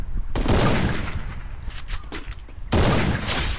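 Gunshots from the video game Garena Free Fire in night hunter mode: a loud burst of gunfire, scattered quieter shots, then another heavy burst near the end.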